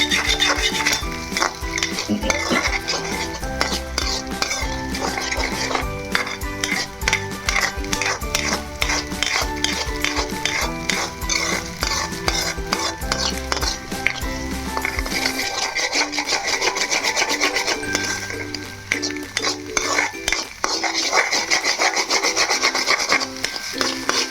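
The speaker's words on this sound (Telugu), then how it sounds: "సాల్ట్ వేసుకొని మనం బాగా వీటిని తిప్పాలి" Beaten egg seasoned with salt being stirred briskly in a pan for egg fried rice, a steady scraping and rubbing rhythm with faint sizzling underneath, close and continuous throughout.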